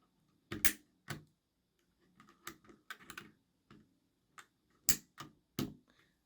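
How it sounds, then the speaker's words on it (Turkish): Keycaps are pried off an AOC GK500 mechanical keyboard with Outemu red switches, giving a scattered series of sharp, close plastic clicks and snaps at an irregular pace, with quiet gaps between them. "Şöyle bir tuşlarımızı sökelim."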